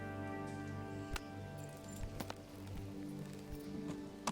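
Horse hooves clip-clopping in the video game Kingdom Come: Deliverance, a few irregular soft thuds over a steady low ambient hum with faint tonal background music.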